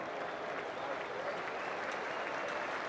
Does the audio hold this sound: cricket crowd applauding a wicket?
yes